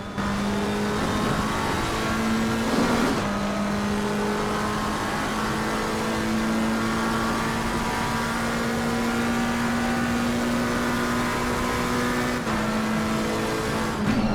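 A McLaren 720S Evo race car in a racing video game drones steadily as it leaves the pits in wet, mixed conditions at Spa-Francorchamps, its engine note holding a continuous, slightly rising hum with a brief gear-change dip near the start.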